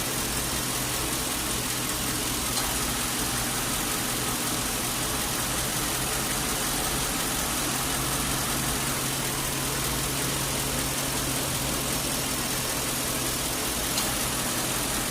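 A Lincoln Town Car with a small A/C system leak idles steadily, its low engine hum constant and close throughout while the air-conditioning compressor cycles on and off beneath the drone.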